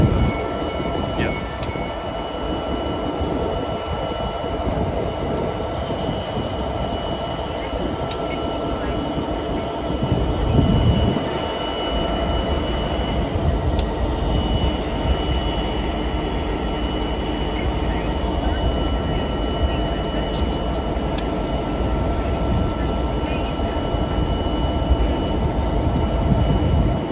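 Class 66 diesel locomotive 66515, running from Leeds to Southampton, arrives on the main line at Acton, a steady loud rumble of engine and wagons that continues throughout, with a brief surge near the middle.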